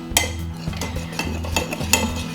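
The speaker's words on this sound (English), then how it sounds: "you're gonna kind of mix the dry ingredients together so they're incorporated" A utensil stirring dry cornbread ingredients in a bowl, a fairly loud, close rhythm of clinks and scrapes against the bowl repeating about twice per second.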